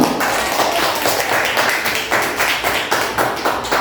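Classroom applause for students, many hands clapping in a steady, loud, dense patter with faint pulsing accents, close and continuous for several seconds.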